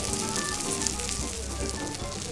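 Salt-seasoned shiro-koro horumon pork offal sizzles steadily on a hot iron teppan plate, a close, continuous crackling hiss with a bright spattering edge and no talk, set in a casual izakaya.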